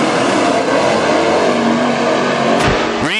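WISSOTA Super Stock race cars at Granite City Speedway roar loudly as a pack on a green-flag restart, a dense sustained engine drone with a car sweeping past close by near the end.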